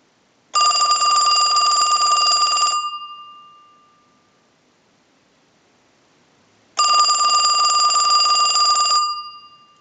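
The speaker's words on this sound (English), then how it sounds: "send a ring cycle like you were getting a call" Western Electric Princess telephone bell rings in two bursts of about two seconds each, separated by a long silent pause, loud and close with a bright metallic jangle, no talking.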